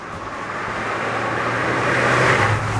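Ford Fiesta 1.6 Zetec S with 120 horsepower driving on the road, a steady, loud interior hum of engine and tyre roar holding level throughout without any talk.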